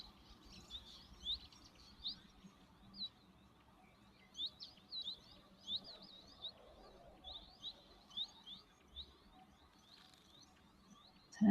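Finches and waxbills chirp and tweet at a waterhole in short, repeated bursts over a quiet outdoor background, several calls overlapping at moderate distance.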